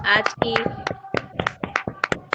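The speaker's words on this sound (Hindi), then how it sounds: "हम ऊंची ताली देके प्रभु को धन्यवाद देंगे" A small group clapping hands in thanks at a church activity gathering, a quick run of loose, uneven claps that trail into scattered single claps, close and fairly loud.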